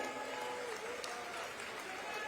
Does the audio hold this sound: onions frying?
no